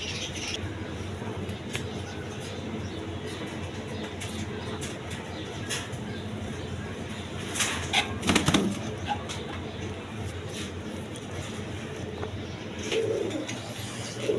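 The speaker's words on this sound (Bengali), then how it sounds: "এইখানে এক পেয়ার কিং কবুতর আছে" A pair of king pigeons coos in a loft, soft low repeated coos under a steady background hiss, with a few louder bursts of rustling and wing movement.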